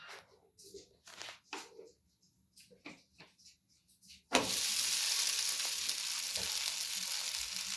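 A raw potato roti hits an oiled nonstick pan and a loud, steady sizzle of frying takes over, following a stretch of quiet kitchen clatter and speech.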